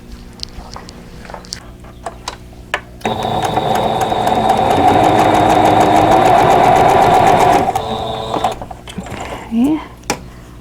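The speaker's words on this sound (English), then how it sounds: "and then I'll sew this piece onto that" A sewing machine stitches quilt block pieces together in one steady whirring run of about five seconds, close and loud, with quieter clicks and handling noises before and after.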